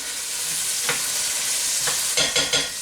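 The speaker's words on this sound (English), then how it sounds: "these onions are looking pretty good." Onions fry in a pan with a steady, dense sizzle, broken by a few scrapes and stirs toward the end; no voices.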